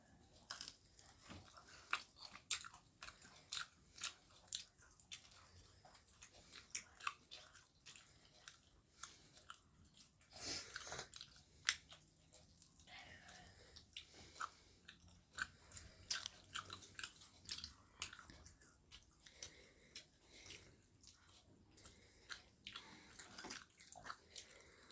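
Someone eats freshly made pitha with milk kheer at an evening snack, with soft, close chewing, biting and wet squishing sounds coming in irregular bursts over quiet background, without speech.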